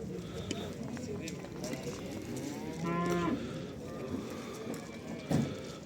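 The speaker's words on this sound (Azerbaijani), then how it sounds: "Balalar da buradadır maşında" Cattle and calves mooing at a busy Barda livestock market, one clear moo near the middle rising over a steady crowd murmur, with voices talking throughout.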